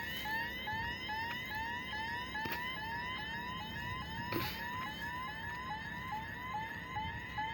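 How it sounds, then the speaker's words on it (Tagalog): A fire alarm being tested whoops repeatedly in fast rising sweeps, steady and somewhat distant, with a couple of sharp knocks partway through. "Tinitesting nila ang fire alarm."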